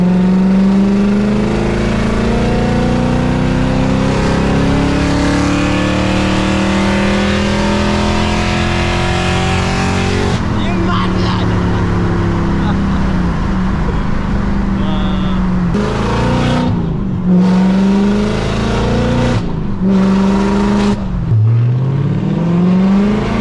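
A loud Audi V8 with a NASCAR-style exhaust drives from the driver's seat, its engine rising and falling through revs and gear changes, with sharp dips as the throttle lifts, and someone talks over it.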